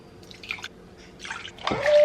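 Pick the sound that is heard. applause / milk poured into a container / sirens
milk poured into a container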